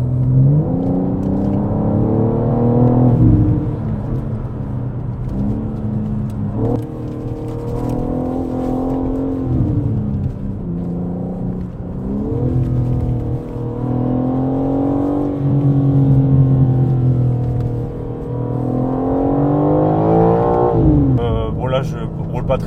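BMW M4 G82 Competition with 510 horsepower accelerating on weekend roads, its engine note rising and falling through several gear pulls, loud and close, with a voice talking over it at times.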